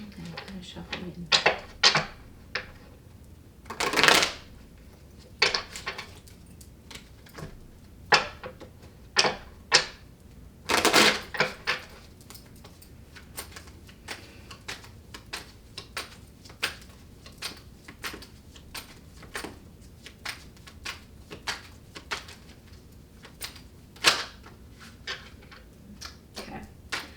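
Tarot cards shuffled by hand in a series of crisp, papery flicks and riffles, sharp bursts coming in irregular clusters with quieter taps between, close and fairly soft.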